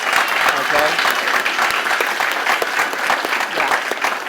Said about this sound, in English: please give Mr. Hartley another round of applause.